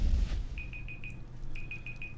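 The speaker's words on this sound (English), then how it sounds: "that's my alarm to pay attention" A digital alarm clock beeps in two quick bursts of four short, high beeps each, over a low background hum with no talking.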